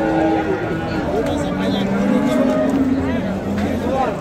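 A cow moos amid the bustle of a Friday livestock bazaar in Pastdarg'om, Samarqand, with long tonal calls rising over constant crowd noise and nearby talking.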